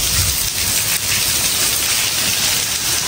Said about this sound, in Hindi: ऐसे तेज बारिश है जी और ये मेरे ख्याल से छत से पानी आ रहा है